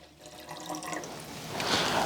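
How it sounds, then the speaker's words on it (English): Tap water running into the water tank of a Rancilio Silvia espresso machine, a continuous splashing pour that grows louder and brighter as the tank fills, heard close up with no talking. "Get some water. Fill that up all the way to the max line"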